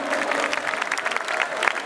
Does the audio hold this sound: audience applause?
yes